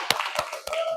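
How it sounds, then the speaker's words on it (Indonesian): Scattered claps from a small audience after a school art presentation, a few separate slaps about a third of a second apart, close and fairly sparse rather than full applause. "Tepuk tangannya."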